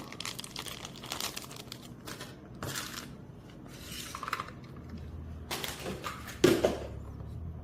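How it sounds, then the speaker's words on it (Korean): Tightly sealed plastic packaging around a toy cake set is worked open by hand, giving irregular crinkling and rustling bursts with a sharper rip near the end, close up and with no talking. "포장이 엄청 단단하게 돼 있어서 가위 없으면 이게 못 뜯을 것 같아요"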